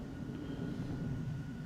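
Steady, even drone of an airplane engine in War Thunder, a constant fairly quiet roar that holds without change throughout.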